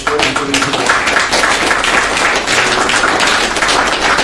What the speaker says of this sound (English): I think everybody should give you a clap.